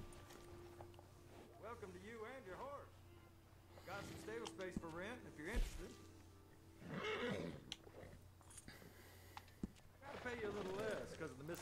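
Arabian horse in Red Dead Redemption 2 neighing in repeated whinnies, several bursts spread through the stretch, close and fairly loud, with someone talking between and over them in a stable setting.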